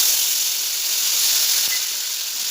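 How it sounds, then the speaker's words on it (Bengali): Five-spice tempering sizzles in hot oil for a pumpkin dish with mustard, a steady bright hiss held close and alone throughout. "তেল গরম করে নিয়েছি, ফোড়ন দিয়ে দেবো 5 ফোড়ন।"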